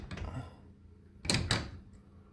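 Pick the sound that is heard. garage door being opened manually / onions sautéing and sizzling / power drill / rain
garage door being opened manually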